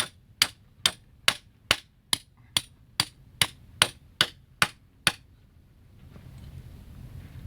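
A hammer drives EMT conduit pins into the ground to hold a greenhouse end-wall door in place: a dozen sharp, evenly spaced metallic strikes ring out up close, then stop, leaving faint background noise.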